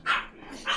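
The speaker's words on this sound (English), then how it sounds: "Dog!" A dog in the game Voices of the Void gives two sharp barks about half a second apart, close and fairly loud, with quiet background between them.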